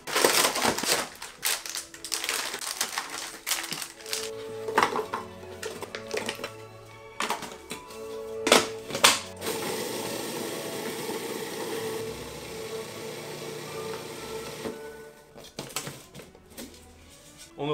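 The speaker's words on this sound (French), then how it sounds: "on va commencer par mixer nos biscuits" Food processor grinding biscuits into powder, a rough crunching whir with rattling bursts that settles into a steadier grinding drone.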